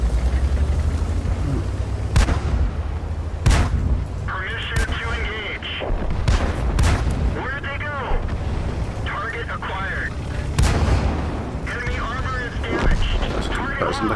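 Tank cannon shots and explosions in a tank combat video game, several loud booming blasts at irregular intervals over rumbling engine noise, with voices talking throughout.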